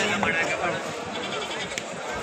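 Kenguri and Sindhnur sheep bleat at a livestock market in Magadi, their cries rising over someone talking close by.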